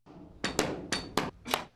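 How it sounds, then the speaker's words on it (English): Hammer blows ring out at a busy construction site: five sharp, loud strikes at an uneven pace, each a bright crack with a short decay, and no talking. "Hammering, sawing,"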